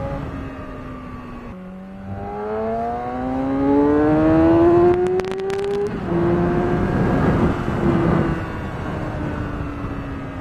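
A Yamaha R6 motorcycle engine pulls hard through the revs, its pitch climbing steadily through a gear, dropping at a shift, then rising again, loud and close with wind rush and no talk.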